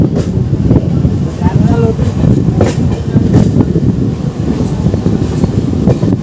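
A Purulia–Howrah MEMU train on its inaugural run pulls away, with a steady rumble and rhythmic clickety-clack of wheels over the rails, loud and close, and crowd voices mixed into the noise.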